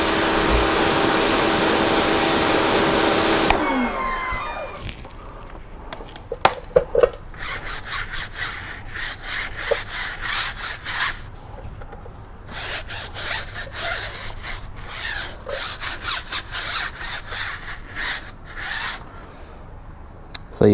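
A brush scrubs a car tyre coated in tyre cleaner, giving repeated rough, bristly strokes in close, loud bursts, preceded by a few seconds of steady water rinsing.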